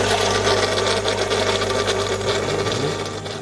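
A Sakai Pro 18-watt submersible pump runs with a steady, close electric hum and buzz, holding an even, continuous drone from start to finish with no voices.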